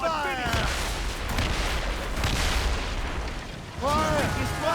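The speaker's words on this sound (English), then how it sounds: "They're firing a volley!" Ships firing a cannon volley in Assassin's Creed Rogue, a dense run of heavy booming blasts rolling together under shouted crew voices, loud and close, easing briefly before another burst.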